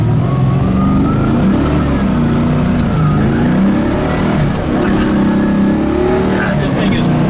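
Engine of a 1973 Camaro restomod pulls hard under acceleration, a loud continuous drone rising and shifting in pitch through the gears, with a voice talking over it inside the cabin.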